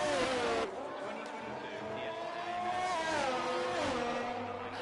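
Formula 1 cars race in a video game, engines whining at high pitch and shifting as they pass and accelerate, with a commentator talking over the steady engine drone.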